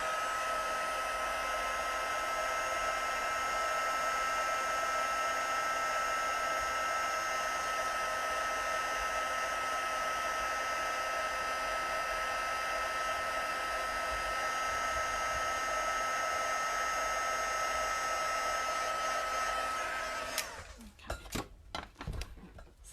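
A heat tool blows with a steady, even whooshing whir while melting embossing powder on a card, running continuously for about twenty seconds before switching off, followed by a few light clicks and handling taps.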